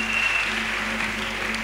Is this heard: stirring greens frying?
no